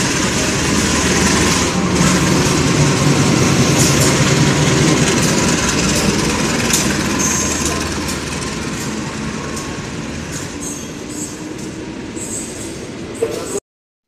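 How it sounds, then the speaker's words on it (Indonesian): Argo Parahyangan express train from Gambir bound for Bandung passing straight through a station, a loud sustained roar of rolling wheels and rail clatter that gradually eases off before cutting out. "melintas langsung kereta api Argo Parahyangan dari stasiun Gambir, tujuan akhir stasiun Bandung"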